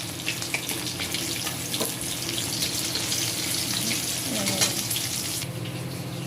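Fish frying in oil in a kadai, a dense, steady close sizzle with a hissing, watery texture that continues for several seconds, without any speech.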